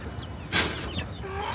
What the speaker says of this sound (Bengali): নজরুল ভাই তো ভালোই মুরগি ধরতারে।